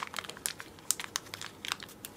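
Plastic Ziploc bag holding a chain crinkling and rustling as it is handled and opened, a quick series of close, sharp crackles and crisp clicks with no talking.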